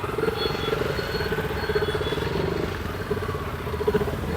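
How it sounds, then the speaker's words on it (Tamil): Motor vehicles, including a throbbing motorcycle-like engine, idle and move through congested street traffic near the busy Pongal market in Jaffna, a steady nearby rumble with no clear talking. "பாதை மறைச்சு விட்டாலும் வாகனங்கள் நிறைய வருது"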